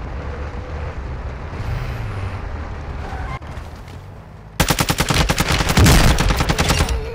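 Rapid automatic gunfire from Call of Duty: Modern Warfare II, loud and close, bursting in suddenly after a stretch of rumbling game noise and continuing as dense, rattling volleys.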